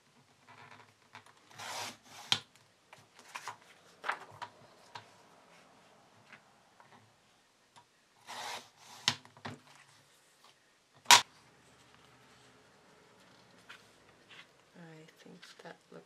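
Paper is trimmed by hand for a small recipe-booklet mini journal. Short, scattered snipping and rasping strokes sound close and quiet, with pauses between the cuts.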